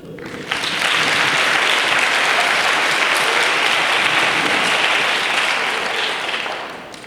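Sustained, loud applause from a crowd in a college lecture hall, a thick continuous roar of many hands that starts abruptly, holds steady for several seconds, then tapers off.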